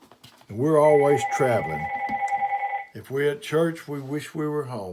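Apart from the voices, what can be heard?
telephone ringing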